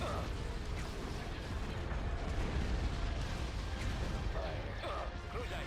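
Dense, continuous din of weapons fire and explosions in a Star Wars space strategy battle, with laser cannons among the weapons, a loud unbroken wash of crashes and bursts that never lets up.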